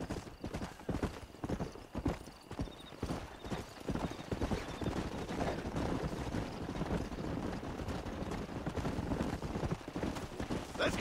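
Horses gallop in Red Dead Redemption, their hooves clip-clopping in a rapid, dense rhythm that stays close and loud throughout, with scattered thumps and faint background noise.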